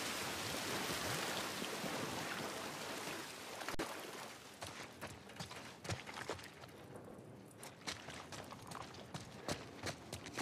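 Dense hiss of rain in The Last of Us Part 1 remake video game at first, then thinning into scattered patters and drips, steady and moderately close, with no voices.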